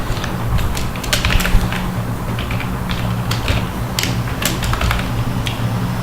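Steady, fast typing on a computer keyboard, close and fairly loud, with dense clattering keystrokes continuing throughout and no voices.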